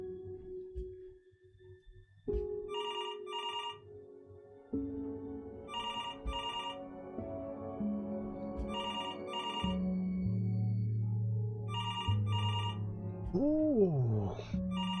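A telephone rings repeatedly in the video game Before Your Eyes, a steady run of paired electronic trills over a low, shifting musical score.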